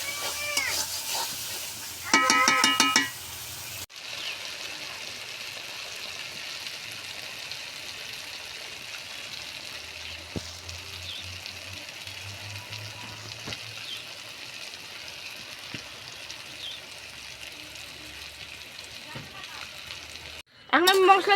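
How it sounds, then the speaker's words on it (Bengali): Spices hiss and sizzle in hot oil as the masala for a pangas fish bhuna with onions is fried. The close, steady sizzle runs throughout, briefly louder near the start, where a voice is heard. "আমি তো আরো কষাবো মশলা"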